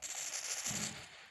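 Gunfire in the mobile shooter game Free Fire gives a brief, fairly faint burst of rapid shots, heard alone.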